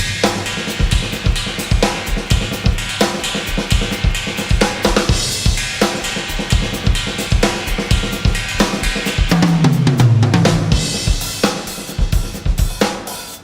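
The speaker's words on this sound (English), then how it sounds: "I'm going to go up onto this lovely old 1979 Swish knocker" Full drum-kit groove riding on a vintage 1979 Swish Knocker cymbal, busy steady beat with trashy sizzling cymbal wash over punchy kick and snare, loud and close.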